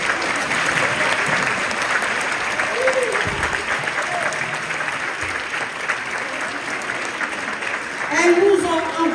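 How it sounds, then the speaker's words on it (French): An audience applauds at a gathering against female genital cutting, with loud, steady clapping sustained throughout and a few faint voices within the crowd. "j'aimerais qu'on applaudisse pour celles qui sont restées là"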